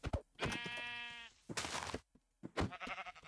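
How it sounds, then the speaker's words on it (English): A Minecraft sheep bleats in a few short, close, wavering calls separated by brief gaps. "I see a sheep"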